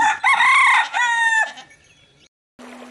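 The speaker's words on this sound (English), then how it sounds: "Maybe the sound of hen." A rooster crows loudly and close by in one long, wavering call, followed by a short pause and then a brief low cluck from the fowl, with no one talking.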